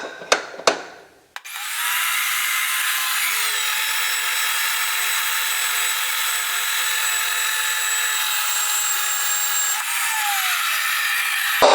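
A powered pipe-threading machine cuts threads on the far end of a steel pipe, starting after a couple of sharp clanks and then running as a loud, steady grinding whine.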